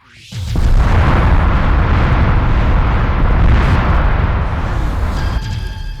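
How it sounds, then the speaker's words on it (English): A crystal shatters and explodes in a fantasy video game level, one loud sustained blast that bursts in suddenly, then roars and rumbles for several seconds before easing slightly, with no talking over it. "I destroyed the crystal"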